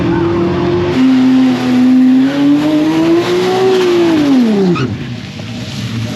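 A race car driven on a public street through traffic lights, its engine droning loud and close, the pitch climbing and sagging through a long pull before dropping sharply near the end.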